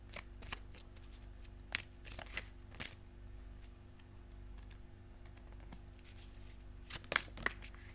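Tarot cards being shuffled up close, in quick riffling bursts separated by quieter stretches, with the densest flurries near the start and again toward the end, over a faint steady hum.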